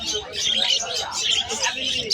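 Many parakeets in a bird market stall, including a dominant pied hen, chirp and tweet continuously in a dense, bright chorus, with a voice talking faintly underneath.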